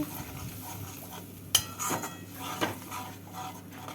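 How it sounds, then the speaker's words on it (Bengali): Spice paste being stirred with water in a pan while cooking a pabda fish curry, with soft scraping and a few clinks of a utensil against the metal pan, fairly quiet with a sharper knock partway through. "জল দিয়ে মশলাটাকে নেড়ে নেব"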